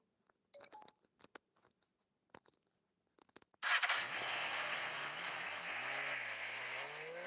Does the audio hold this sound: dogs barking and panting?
no